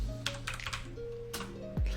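Rapid typing on a mechanical keyboard with clicky blue switches: a steady run of sharp, close key clacks with uneven rhythm and a heavier thump near the end.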